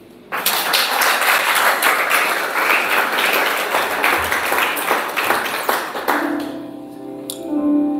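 A church congregation claps and applauds for Jesus, a dense, loud burst of hands that starts abruptly and carries on for about six seconds before fading under a sustained musical tone.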